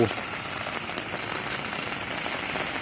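Steady rain patters densely on a surface, a continuous hiss of drops with no break throughout.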